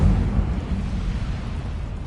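A fire spell cast in the Hogwarts Legacy video game makes a steady, roaring rumble of flame. The rumble holds at an even level for about two seconds with no sharp onset, and no one speaks.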